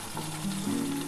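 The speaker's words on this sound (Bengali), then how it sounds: "আর একটু ভালো করে কষিয়ে নিই" Mutton curry sizzles and fries in a pan as it is sautéed, a dense, steady crackling hiss that stays close and fairly loud throughout, with no voices.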